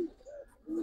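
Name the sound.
Giribaz pigeons cooing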